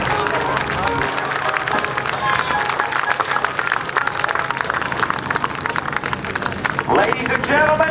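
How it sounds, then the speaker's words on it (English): Crowd applause at a naval air station airshow, sustained dense clapping and scattered cheers from a large outdoor audience, with a voice talking over it throughout. "how about a nice round of applause for John Mohr?"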